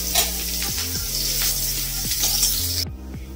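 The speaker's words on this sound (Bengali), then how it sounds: "পেঁয়াজ আর লঙ্কা দেখতে পাচ্ছেন খুব ভালোভাবে ভাজা হয়ে গেছে।" Onion and dried red chillies frying in hot mustard oil, a constant hiss of sizzling throughout, with a steady tonal hum underneath until the sizzle cuts off near the end.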